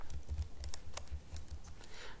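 Computer keyboard typing, a quick uneven run of light key clicks and taps close by, faint and steady with no talking.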